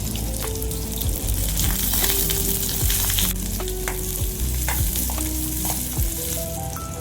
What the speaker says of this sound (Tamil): வெங்காயம் வதங்கிடுச்சுங்க, பூண்டு நல்லா வதங்கிடுச்சு.